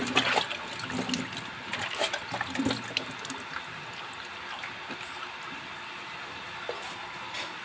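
Cold water splashed onto a face during washing at a sink, a few soft splashes and trickles early on, then fading into quiet running-water hiss.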